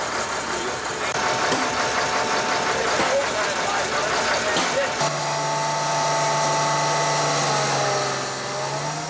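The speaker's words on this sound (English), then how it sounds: "Even the most sophisticated ones like this drilling vibration rig." A vibroseis truck, a drilling vibration rig, runs in Oklahoma in 1982, a steady heavy engine drone with a low mechanical hum that settles into a sustained tone, loud and close amid crowd noise.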